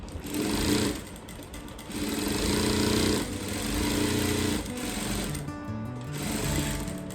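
A sewing machine stitches blouse fabric in steady, close whirring runs, pausing briefly between seams and starting up again.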